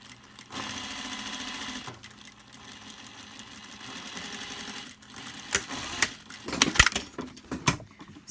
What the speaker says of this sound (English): I'm sewing a bit slower than you ladies.